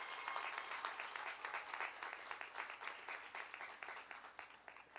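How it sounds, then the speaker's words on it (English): Audience applause fills a graduation ceremony, a steady wash of many hands clapping at moderate distance, dense and continuous for the whole stretch without talk. "Can we please give them a round of applause?"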